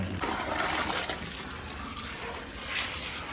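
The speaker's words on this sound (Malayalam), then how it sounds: "വെള്ളം ഒഴിച്ച് കൊടുക്കും" Water poured into cattle feed in a container at a dairy farm: a close, rushing gush that settles into a steadier pour, with no talking.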